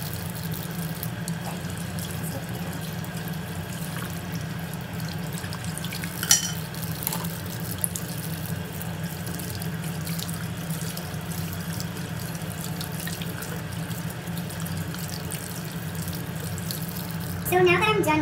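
Water runs steadily from a tap into a sink while makeup brushes are washed, a constant hiss with occasional splashes and clinks, plus a brief louder burst of water near the end.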